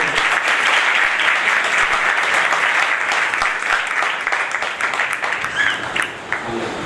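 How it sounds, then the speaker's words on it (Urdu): Loud, dense applause from a church congregation at a first-anniversary service of an Assemblies of God church in Karachi, Pakistan, holding steady for about seven seconds and thinning slightly toward the end, with no speech over it. "آپ سب ان کے لیے زوردار تالیاں"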